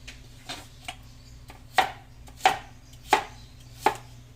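Food sliced with a knife on a board, four clear, evenly spaced chops close by, preceded by a few lighter taps, with a quiet background between strokes.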